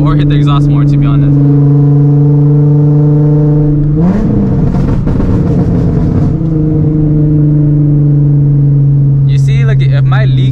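A car fitted with a Tomei exhaust running a crackle map drones loudly at steady revs while climbing uphill, then swells into a brief rev with crackly bursts in the middle before settling back to a constant hum.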